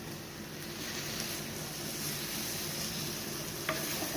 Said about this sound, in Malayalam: ഇനി ഇതിലേക്ക് നമ്മൾ മാറ്റി വെച്ചിരുന്ന പുളിവെള്ളം ചേർക്കണം.